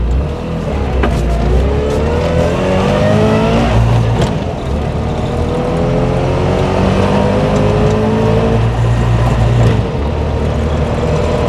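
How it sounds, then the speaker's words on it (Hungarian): A Trabant 601 drives during a brake test with its engine droning loudly and continuously close by, and its pitch rises and falls as it speeds up and slows down. No one speaks. "Fékteszt. Simán, simán csúszik, tehát hogy a fék az azért fog."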